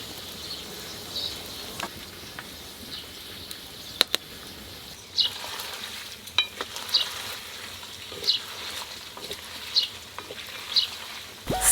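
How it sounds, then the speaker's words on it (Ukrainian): Lard cubes sizzle and crackle steadily in a frying pan, with sharp pops and spits recurring every second or so, no voices. "смачно шкварчить"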